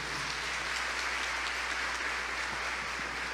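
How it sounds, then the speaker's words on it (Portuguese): Congregation applauding inside a church during a Catholic sermon, a steady wash of many hands clapping at moderate distance, continuous and even throughout with no voices rising above it. "pode aplaudir o Senhor"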